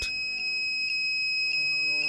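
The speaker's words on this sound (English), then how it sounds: "An alarm goes on, indicating the fault." A Siemens Betagard ATSE sounds its fault alarm after an overload or short circuit trips the MCB, a steady high-pitched electronic tone with faint pulsing beeps repeating about every half second.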